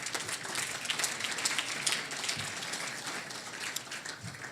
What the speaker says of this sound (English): Go ahead and give those a nice round of applause